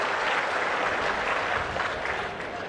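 A crowd at a public meeting breaks into dense, sustained applause, many hands clapping together in a steady wash that stays loud before easing slightly toward the end.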